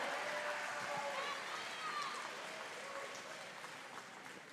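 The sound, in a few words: audience applause at ice show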